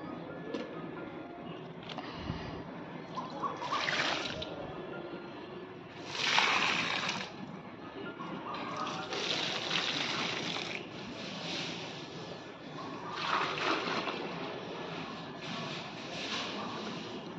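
Water sloshing and pouring as buckets are filled one after another to water plants, soft splashing surges that come and go at a moderate distance, with no speech.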